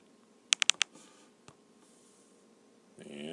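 Four quick keystrokes on a keyboard entering a quadratic equation to graph, crisp and close, followed by a faint tap and then a soft rising tone near the end.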